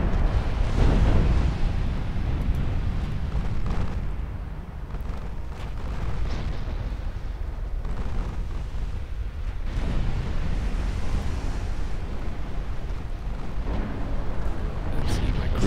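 Naval battle in Ultimate Admiral Dreadnoughts with dense, continuous rumbling explosions and heavy gunfire booming throughout, a loud low roar of shellfire and blasts with occasional talk underneath.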